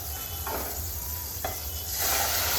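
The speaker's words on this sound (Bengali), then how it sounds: "বাটারটাকে একটু মেল্ট হতে দিচ্ছি" Butter melting in a pan for a winter soup, a soft steady sizzle with a couple of brief spoon scrapes, growing slightly louder toward the end, no talking.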